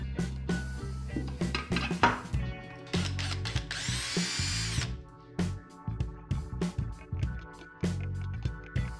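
A drill bores a small hole in a brake pipe, short bursts of whirring motor and metallic clatter starting and stopping repeatedly, with one longer high whining run near the middle, up close.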